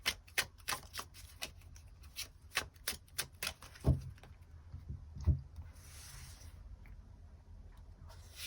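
Tarot cards riffle and snap in a quick run of sharp, close taps, then slow to a few soft slides and thuds as cards are drawn and laid down, quiet and with no talking.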